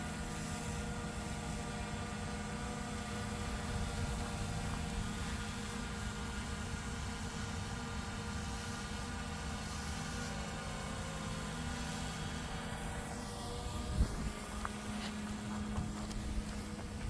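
A Carmanon 1:27 scale Bell OH-58 RC helicopter flies with a steady, even whine and hum that holds level throughout, close and fairly loud, with a brief clunk near the end.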